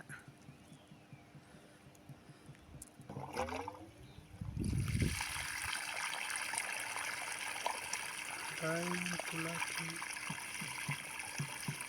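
After a few faint voices and knocks, water suddenly gushes from a borewell pipe and keeps flowing in a steady, hissing rush to the end; the borewell's flow is low.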